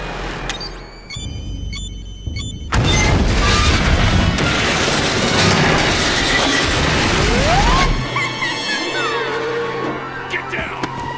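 Explosions and crashing debris in the video game Batman: Arkham Asylum, a sustained loud blast and rumble that fades into metallic clanks and whooshes, with game voices speaking over parts of it.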